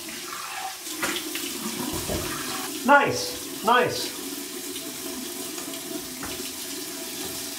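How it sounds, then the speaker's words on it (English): Warm tap water running into a sink for rinsing a razor head, a steady running stream with a couple of louder splashing gurgles midway, close by, with a brief spoken word. "Here's my warm water rinse."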